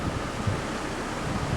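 Steady wind rushes and buffets outdoors by a hotel in Gothenburg, Sweden, in the early morning, a broad continuous whoosh with no voices.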